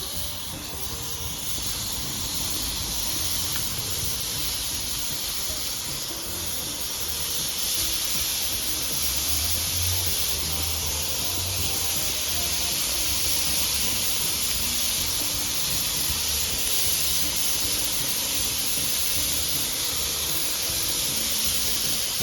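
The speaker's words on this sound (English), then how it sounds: "Now it's time to lay these burgers on. Get some char on these bad boys." Grass-fed beef burger patties sizzle on a hot Weber Q grill, a loud, steady, close hiss that holds unbroken throughout with no talking.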